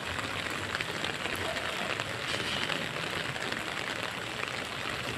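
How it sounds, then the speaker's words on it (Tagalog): Steady heavy rain falls in Laguna, a dense continuous hiss of drops on surfaces close around, with no breaks and no voices heard. "Ay, umulan."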